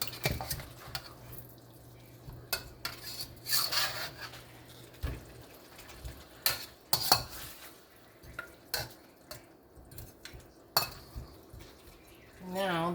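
Lamb shanks, pieces of lamb leg, tossed in a pot with green beans, turnip and onion, giving scattered stirring scrapes, clinks and soft sizzling bursts at close range.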